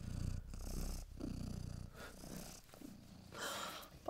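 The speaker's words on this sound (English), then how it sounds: "I'm gonna purr." A pet cat purrs close up, a steady low rumbling with rhythmic swells as it breathes in and out, continuous for several seconds with no talking.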